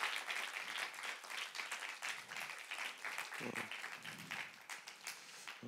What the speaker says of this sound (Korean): 다시 한번 우리 귀한 강의해 주신 목사님께 여러분이 할 수 있는 최고의 박수로